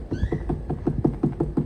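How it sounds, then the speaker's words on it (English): A series of about nine low, hollow thumps in a quick even rhythm, like knuckles rapping on a watermelon close by. "You hear that? That's the sound of a good watermelon."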